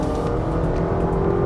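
Honda Accord Hybrid accelerating hard along a straight road, a steady close engine and drivetrain drone with a low rumble that holds evenly throughout, no voices over it.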